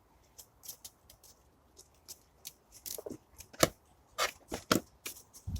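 A pair of scissors snips repeatedly outdoors in a garden, sharp close clicks in an irregular rhythm that grow louder and quicker toward the end.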